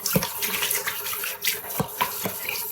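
Tap water runs into a sink while shaving gear is rinsed after a traditional wet shave, a steady close hiss broken by several soft splashes and clunks from the gear under the flow.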